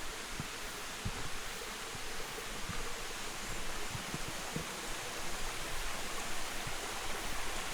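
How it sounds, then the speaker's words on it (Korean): Flowing mountain valley stream water rushes steadily on Suraksan in Seoul, with a broad, even hiss and occasional soft splashes, continuous and moderately quiet, with no voices. "여기서 듣는 물소리가 정상으로 가는 코스에서 마지막 벽운 계곡 물소리입니다."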